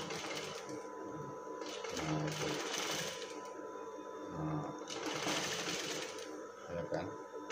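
A sewing machine stitches brocade lace fabric with a temporary basting seam, running in steady continuous bursts that swell and ease, close and fairly loud throughout.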